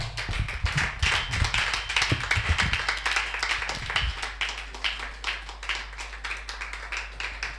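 A French-speaking church congregation at a Sunday service claps in brisk, overlapping rhythm for several seconds, with scattered voices and a low steady hum underneath.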